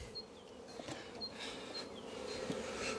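A Buckfast/Carnica honey bee colony hums and buzzes at an opened hive during a swarm-cell inspection, a dense continuous drone with individual bees zipping close by.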